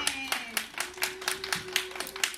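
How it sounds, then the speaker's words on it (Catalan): Children and adults at a preschool chestnut festival performance clap in a light, uneven rhythm, individual claps distinct and fairly close, with a sustained tone and faint voices behind. "Un aplaudiment."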